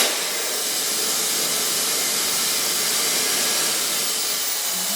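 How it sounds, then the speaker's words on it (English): A steady, loud rush of blowing air runs without a break, a constant hiss like a hair dryer running close by. "I take some speed out of the blow dryer"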